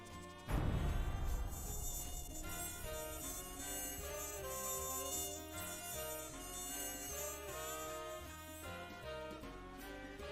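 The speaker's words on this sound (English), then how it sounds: "If you wear headphones when the mosquito goes by, it does a pretty cool effect." A mosquito buzzes as a sound effect, a continuous whining drone that shifts in pitch as it passes, with no talking.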